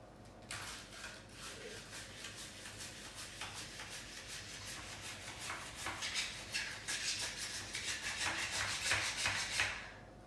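Cabbage is sliced thinly on a simple handheld slicer for pickled cabbage, with quick, rhythmic back-and-forth scraping strokes that build louder toward the end, and no voices.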